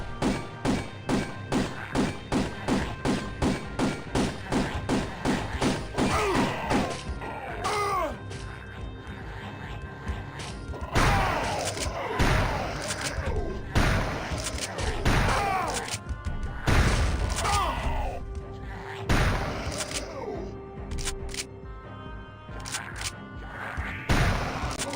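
Shotgun blasts boom in a dinosaur hunting video game, loud separate reports a few seconds apart over a fast rhythmic pulsing game soundtrack.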